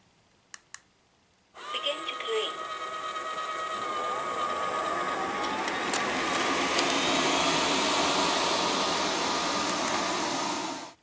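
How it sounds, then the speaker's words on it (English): A robot vacuum cleaner sucks up crumbs on carpet, starting after a couple of light clicks and settling into a loud, steady whirring hum with brush rattle that runs continuously until it cuts off at the end. "I've ticked a selection of crumbs here on the carpet, so let's see how well it vacuums them up."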